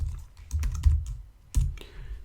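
Typing on a computer keyboard: a few quiet, close key clicks in small irregular clusters, with soft thuds between them and no voices.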